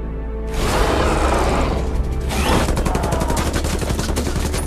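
A sudden burst of rapid gunfire at a beach erupts after a brief pause, continuing as loud, dense volleys of shots until the end.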